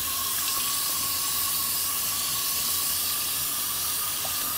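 Tap water runs steadily over Pacific cod fillets being rinsed in a sink, a continuous hissing splash at moderate level with no talking.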